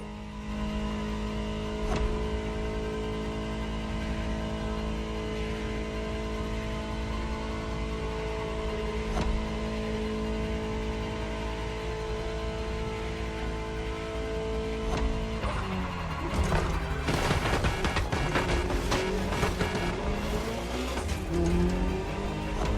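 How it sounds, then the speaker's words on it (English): Ferrari 288 GTO in The Crew Motorfest cruising with a steady engine drone for a long stretch, then revving and shifting more aggressively toward the end, no voices. "just enjoy the collector's piece that is the Gran Turismo Omologato, or like Mr. Pignati Morano said, simply GTO"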